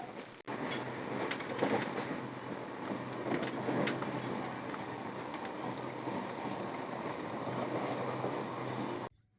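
Passenger train bound for Haridwar running at speed, a loud steady rumble and rattle heard from inside the carriage with rhythmic clicks of wheels on rail joints, continuous until it cuts off.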